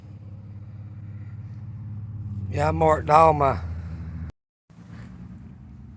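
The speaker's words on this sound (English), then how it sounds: "I had a car come by" A car passes along a road beside a home garage where a 1980s 302 engine is being stripped down, a low rumble swelling and fading over several seconds, partly under a voice.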